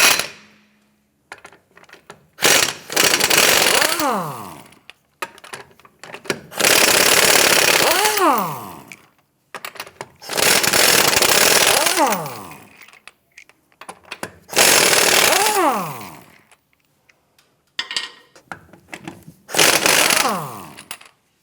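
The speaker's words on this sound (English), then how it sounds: "Using a 21mm socket, let's get it loosened and remove the lug nuts." Lug nuts come off a 2008–2013 Nissan Rogue with a 21mm socket on a power tool, heard as five loud, close bursts of rattling impact with rising-then-falling whine as each nut spins free, separated by short pauses.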